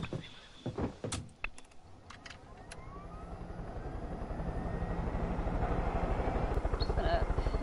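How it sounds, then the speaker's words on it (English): A helicopter in the video game Far Cry 5 starting up, a rotor chop building steadily from faint to loud, with a few clicks early on and no voices. "I'm gonna get in this helicopter"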